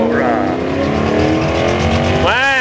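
A 1969 Camaro Z28-style muscle car with a lopey cam idles and revs at a car show, the engine loud and rumbling with an uneven loping beat and a sharp rev near the end.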